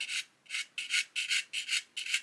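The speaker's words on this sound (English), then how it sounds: "come along with a fairly coarse sanding stick" Six quick back-and-forth rasps of a coarse sanding stick scraping the hard plastic of a 1/48 scale Lancaster B.1 model, close up and steady in rhythm.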